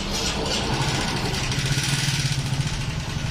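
A Honda Sonic motorcycle engine idles nearby with a steady, slightly uneven low putter, loud and close, no voices.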